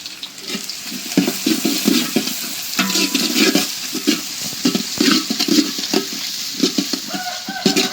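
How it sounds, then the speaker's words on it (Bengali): Onion frying in a pan with garlic and cumin for a vegetable khichuri, a close, busy sizzle broken by repeated scraping and clattering stirring strokes that rise and fall across the clip. "এই যে পেঁয়াজটা একটু ভাজা ভাজা করে নিলাম।"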